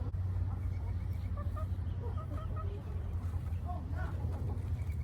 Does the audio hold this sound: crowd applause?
no